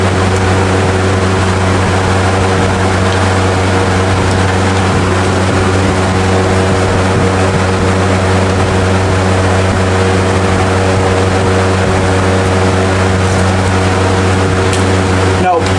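A generator of unknown make runs on its first start, its engine droning loud and steady with a strong low hum and layered harmonics that hold evenly for the whole stretch.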